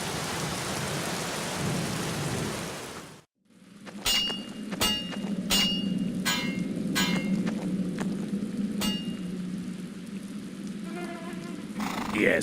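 Rain hisses steadily in the Black Mirror video game, then cuts out for a moment before returning with a series of sharp dripping taps and a low rumbling wash underneath.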